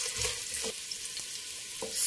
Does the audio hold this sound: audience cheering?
no